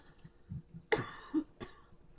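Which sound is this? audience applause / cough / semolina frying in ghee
cough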